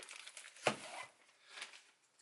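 A plastic bag crinkles as a photobook album is opened, giving a few soft, close crackles with one sharper crunch, quiet and alone.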